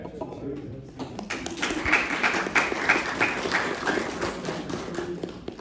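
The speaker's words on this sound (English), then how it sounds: "Maybe we get a round of applause for the long-term" An audience at a city commission meeting breaks into a round of applause, a moderate wash of scattered claps swelling and holding steady in a large room, with voices chattering underneath.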